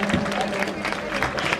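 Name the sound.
audience applause at a welcome ceremony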